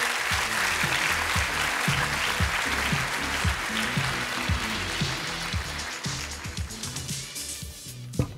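A graduation ceremony audience for a Master's in Marketing claps warmly and continuously, a dense, even roar of many hands that carries for several seconds before tapering off near the end.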